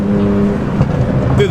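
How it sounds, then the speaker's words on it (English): A tuned BMW 335i with a custom MHD tune lets out a short, loud, rumbling exhaust burble close by. "the burble on the bridges sound good"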